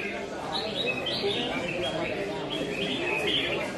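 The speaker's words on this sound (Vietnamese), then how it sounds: "anh em chủ chim ở dưới cũng đang xúi dục chim của mình" Competition songbirds chirp in short, high bursts over a crowded, noisy background while people talk nearby.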